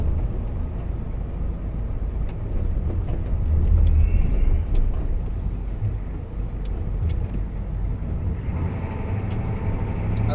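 A 1991 Ford F250 pickup with a speed sensor fault drives along steadily, its engine and road rumble constant and fairly loud, with a shift in tone near the end as the transmission changes gear.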